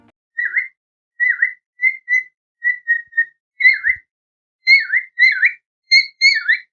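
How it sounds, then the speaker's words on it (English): A cockatiel whistles in short, clear, bright phrases, about a dozen chirpy notes in a steady rhythm, each falling or rising, close and alone with no other sounds. "Cockatiel sounds like tweet tweet."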